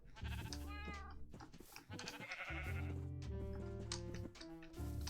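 Sheep bleat repeatedly in Minecraft, several wavering, overlapping calls from a small flock of three, fairly close and loud over the whole stretch, with no talk.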